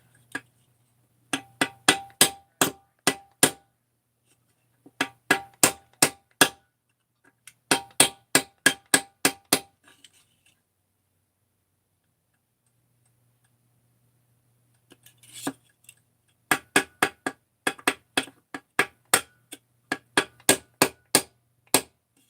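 A hammer drives a part down into a 372 crankcase with steady sharp metallic taps in several runs of eight to ten strikes, each run separated by a short quiet pause, close and clear with no speech.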